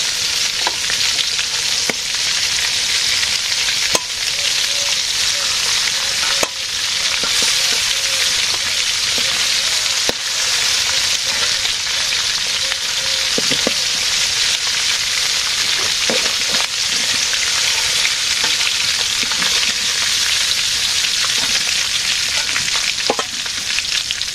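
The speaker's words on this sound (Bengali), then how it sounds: "আলু ভাজি করা হয়ে গেছে" Potatoes fry in a pan in simple village cooking, giving a loud, continuous sizzle with faint stirring clicks throughout and no speech.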